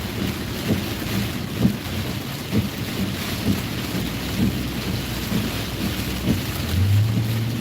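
Steady summer rain pours outdoors with a dense, even hiss, along with soft low rumbles that may be distant thunder; no voices are heard.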